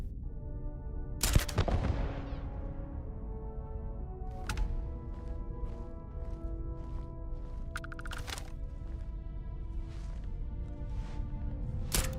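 Turret gunfire in the Starfield video game: a loud sharp burst near the start, then a series of brief shots scattered across a steady game soundscape with a humming drone.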